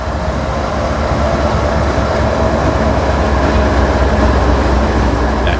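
Train wheels roll over a railroad defect detector's trackside sensors, a loud, continuous close-range rumble and rattle of rail cars passing steadily without a break.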